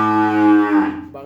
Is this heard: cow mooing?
yes